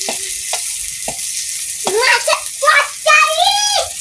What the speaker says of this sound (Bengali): এইভাবে মাছ ঝাল পেঁয়াজ রসুন সব ভেজে নিচ্ছে